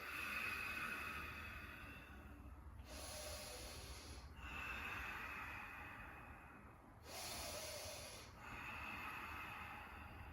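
Slow, steady yoga breathing comes close and quiet, in long airy inhales and exhales at an even pace, with about four breaths over the stretch and no talking.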